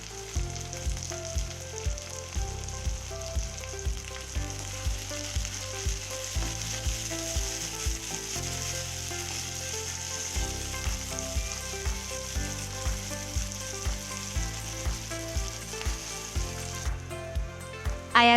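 Halved shallots fry with salt while being stirred. A steady bright sizzle runs under rhythmic music with a regular beat, and the stirring is hard to pick out beneath it.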